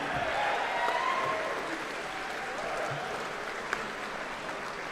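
A crowd at a brass band championship applauds steadily, a broad, even patter of clapping heard from a distance at moderate level throughout.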